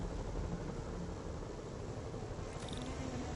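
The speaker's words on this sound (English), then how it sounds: "Bet I can use those helicopters to swing." Steady rotor drone of helicopters in the Spider-Man PS4 video game, a dense broadband whir holding at even loudness throughout with no talk.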